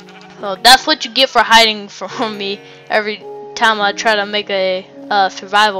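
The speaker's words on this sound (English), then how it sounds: "We spawned in a forest with a lot of sheep." Sheep in Minecraft bleat in short wavering calls several times over a few seconds, mixed with a person talking over them.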